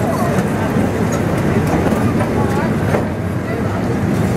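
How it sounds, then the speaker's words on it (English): A small ride-on choo-choo train rumbles steadily along with low mechanical noise and faint rail clatter, while people talk nearby throughout. "We're going on a choo-choo train ride."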